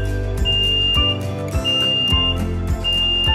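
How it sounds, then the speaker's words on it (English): A steady electronic buzzer tone on a bottle vacuum leak tester repeats in short bursts over continuous machine hum, loud and close. "Now this is indicated by a buzzer, red buzzer with indication lamp."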